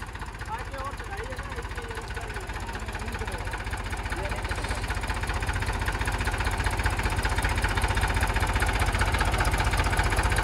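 A tractor labours up a slope in low gear at very low rpm, its engine a dense, steady, close chugging roar that slowly grows louder throughout.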